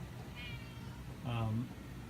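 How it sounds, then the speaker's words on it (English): A house cat meows twice in a workshop setting, a faint short call followed by a louder, longer meow, with a voice talking underneath. "and there's my cat"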